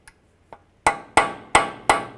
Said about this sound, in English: take a punch and a hammer